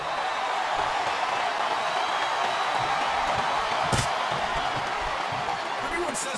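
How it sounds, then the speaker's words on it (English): A loud, continuous roar of an arena crowd in the WWE SmackDown vs Raw 2007 wrestling video game, Candice Michelle vs Mickie James, steady throughout with one brief sharp burst partway through. "I think these superstars are getting some feedback from the crowd, JR."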